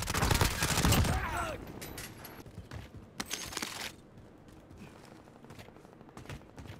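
Gunfire in Call of Duty Warzone, with a loud burst of rapid automatic shots up front followed by scattered sharper single shots and faint distant rattles, under occasional chatter.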